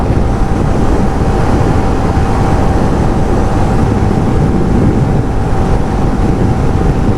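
Strong, constant wind roaring and buffeting against the microphone in open countryside near Kuakata, Bangladesh, loud and unbroken throughout, with a faint steady hum underneath.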